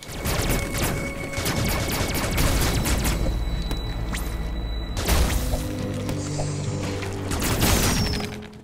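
Charged shots fire in Metroid Dread, with bursts of blasts, booms and crashing impacts layered over a continuous game soundscape, loud and busy throughout.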